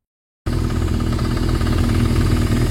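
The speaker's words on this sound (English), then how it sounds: "So it's idling" An engine idles steadily after a moment of silence, giving a continuous, even rumble that stays close and loud throughout.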